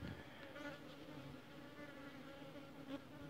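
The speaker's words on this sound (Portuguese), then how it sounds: "Meu olho tá cheio de mosquito, galera. É um mosquito amuado." Buzzing insects, likely mosquitoes, hum as a faint continuous drone with slight wavering close by, outdoors at a hunting bait spot of cassava and corn, no voices.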